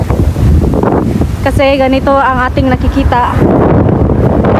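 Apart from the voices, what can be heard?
strong wind at the seaside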